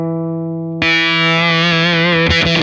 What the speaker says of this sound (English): So this thing may get a little noisy because it is a unbuffered vintage style fuzz with 2 gain stages.